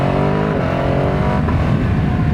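A Ducati Hypermotard V2 SP twin engine drones loudly and steadily while the motorcycle is ridden, a continuous throaty hum with slight pitch shifts over a couple of seconds.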